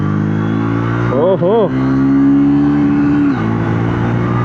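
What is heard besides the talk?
Triumph Speed T4 350cc motorcycle accelerating on road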